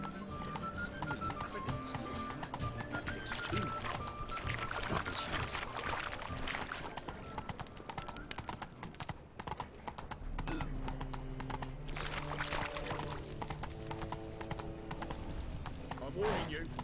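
Horse galloping in The Witcher 3 video game: steady rhythmic hoofbeats run throughout at a constant loud level, with game music and ambient tones layered underneath.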